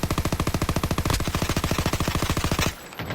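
Rapid automatic gunfire from a shooting video game, a steady burst of roughly twenty evenly spaced loud shots lasting over two seconds, then cutting off abruptly into quiet background noise.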